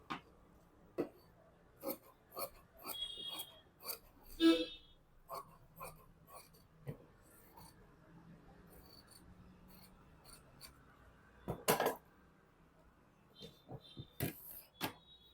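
Scissors cutting blouse fabric, heard as scattered, faint crisp snips and rasping slides, some in quick bursts and a few louder cuts, spread across a quiet room with no talk.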